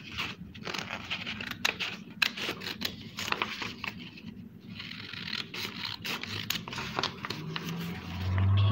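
Scissors cut through fabric along a pattern for the back piece of an abaya, giving steady close scraping and snipping strokes for several seconds with brief pauses and no talk.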